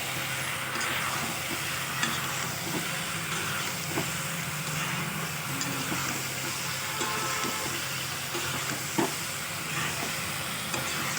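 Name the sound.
soybean chunks and vegetables frying in a pan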